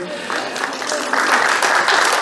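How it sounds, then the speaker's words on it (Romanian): Brief applause at a district awards ceremony for cultural personalities in Ialoveni, clapping that builds and thickens over a couple of seconds with some voices mixed in. "Ne fotografiem, ne susținem reciproc cu aplauze."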